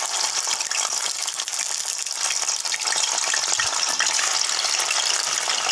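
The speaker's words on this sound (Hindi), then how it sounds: "अब इसमें थोड़ा थोड़ा करके पनीर को डालकर तलेंगे।" Paneer pieces frying in hot oil, a steady loud bubbling sizzle with a bright hiss that holds evenly throughout, close up and with no talking.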